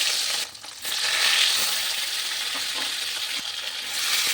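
Rohu fish pieces frying in hot oil in a pan for a Bengali fish curry, a continuous bright sizzle with a brief dip early on and a few small pops and clinks scattered through.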